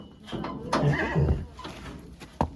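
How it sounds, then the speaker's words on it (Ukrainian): A mare whinnies loudly and close, a wavering call lasting about a second, amid shuffling and a sharp knock near the end. "кобила розв'язалася, Вася"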